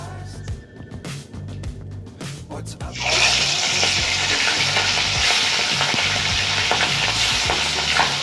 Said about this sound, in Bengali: সরষে তেল গরম হওয়ার পর আমরা এর মধ্যে মাছগুলোকে ভেজে নেব।